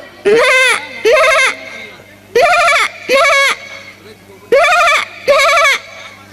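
Someone mimics a goat, giving three pairs of quavering, nasal bleats with brief gaps between them.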